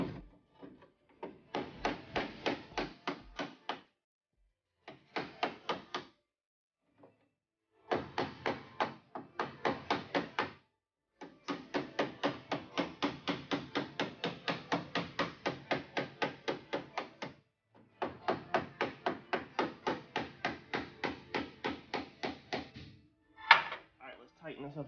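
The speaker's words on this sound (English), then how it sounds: "Let's switch back to our other hammer and let's put a dolly in there." Rapid bursts of metallic hammer taps on a dolly against a Mustang car body panel ring out in quick rhythmic runs, separated by short pauses, close and sharp.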